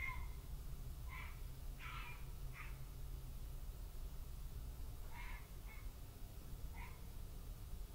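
Cats yowling outside, a few short, faint cries spaced out over several seconds against steady low background noise.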